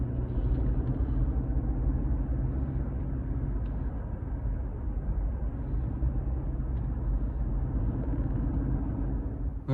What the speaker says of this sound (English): This old flatbed farm truck is ruining my groove.